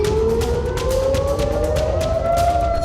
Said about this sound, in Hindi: बार बार सायरन की आवाज गूंजती है।